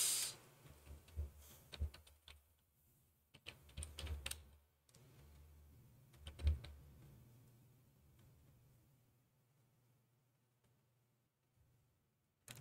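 Someone types an email address on a computer keyboard in quiet, faint bursts of key clicks with short pauses, the tapping thinning out toward the end.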